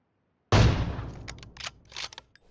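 A loud, close gunshot from the video game PUBG Mobile opens with a heavy boom, followed by a few quicker, fainter shots and crackling echoes that fade out, with no talking.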